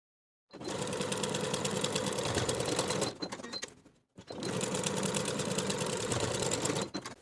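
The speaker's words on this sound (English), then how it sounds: "I'm going to use those creases as my stitching line to sew from the top to the bottom of the pocket" A sewing machine stitches down a bag pocket in two long, fast, even runs, each about three seconds of steady whirring, with a brief pause and slower stitches between them.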